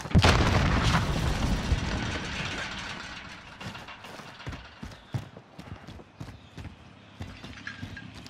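A frag grenade explodes in Call of Duty: Modern Warfare with a loud, close boom at the start, followed by a long rumbling decay and then scattered thuds and clatter of debris and distant combat.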